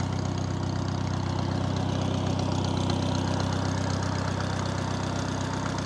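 A 1950 Farmall Cub tractor engine runs steadily at idle, a loud, continuous mechanical drone with a faint ticking, heard close up with no talking.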